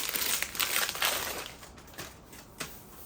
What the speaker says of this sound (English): Let's unwrap it and let's see what we got.